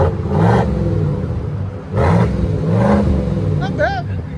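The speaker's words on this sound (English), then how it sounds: "It's a Borla Touring." A Chevy/GMC 5.3L V8 truck with a Borla Touring exhaust revs up several times, each a loud, deep roaring swell that rises and falls, with people talking over it near the end.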